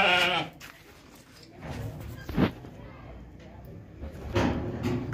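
Sheep and goats, including a day-old lamb, bleat close by in several loud calls spread through the scene, with people talking between them on a farm.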